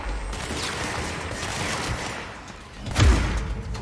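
Gunfire in the video game Control, a muffled rattle of shots under a dense mechanical rumble, building to one loud, close booming blast near the end.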